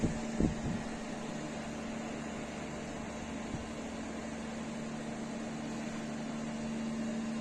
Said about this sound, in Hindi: एसी इसमें चल रहा है, ऑन हो गया पूरी तरह से और हवा भी सही दे रहा है।